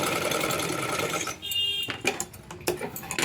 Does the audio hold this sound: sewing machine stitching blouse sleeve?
yes